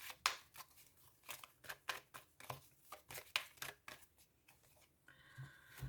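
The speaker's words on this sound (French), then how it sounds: "Je vais reprendre une carte supplémentaire." Tarot cards being drawn and handled from a deck, a run of soft, crisp rustles and flicks in an irregular rhythm, close and quiet with no talking.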